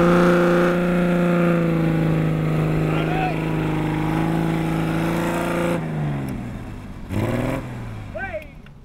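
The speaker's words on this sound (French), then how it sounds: "Accélère à fond les gaz!" A 4x4 engine labours at full throttle with a steady droning roar, then drops off near the end as excited voices talk and shout over it.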